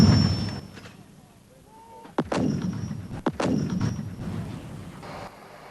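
Artillery guns firing during the 1982 Falklands conflict: two loud, sharp booming reports about a second apart, each trailing off into rumbling echo over a low background hum.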